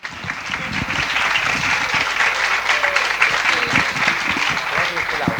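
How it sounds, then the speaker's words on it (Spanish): Steady, loud audience applause for a speaker at a talk on optimal cholesterol levels in vegans, sustained clapping filling the whole stretch with no voices over it. "Fuerte aplauso para Janina, por favor."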